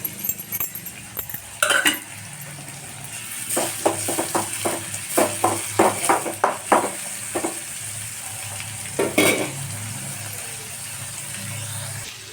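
Urad dal and tomato frying in a pan for a tempering, with a steady background sizzle and a run of clinking stirring strikes in the middle, close and moderately loud.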